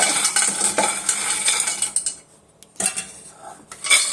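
A spoon stirs Lay's pasta around a pan, scraping and clinking against the metal in quick uneven strokes with a faint sizzle, briefly pausing partway before the clatter resumes, close and loud with no talking.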